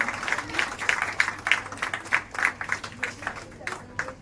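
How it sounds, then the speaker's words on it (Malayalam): An audience at a Navaratri classical dance offering applauds for the whole team, with a run of distinct, fairly close claps at a steady rhythm over a low background hum. "ഈ മുഴുവൻ ടീമിനും സ്നേഹം നിറഞ്ഞൊരു കയ്യടി നമുക്ക് എല്ലാവർക്കും ചേർന്ന് നൽകാം"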